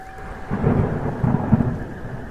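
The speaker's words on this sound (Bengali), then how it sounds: "এমন সময় বেশ জোরেই বৃষ্টি শুরু হলো" In a Bengali horror story, heavy rain pours steadily with low rumbling swells of thunder rolling underneath, a dense, continuous wash of sound with no voices.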